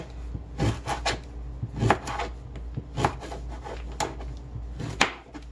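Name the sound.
knife chopping vegetable stalks into chunks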